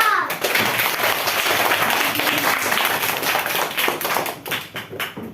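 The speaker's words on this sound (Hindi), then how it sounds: "अब जोरदार तालियों से स्वागत करिए सृजा का" Schoolchildren applaud a Class 3 student performer at a Hindi Day school event, giving loud, fast, dense clapping nearby that thins into scattered claps toward the end, with faint children's voices mixed in.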